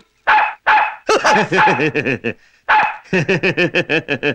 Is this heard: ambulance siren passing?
no